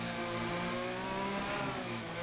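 A race car engine revs hard and continuously in a racing video game on the Baku circuit, a loud, dense mechanical whine with shifting pitch and no voices over it.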